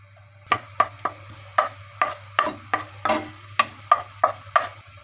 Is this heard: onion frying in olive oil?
yes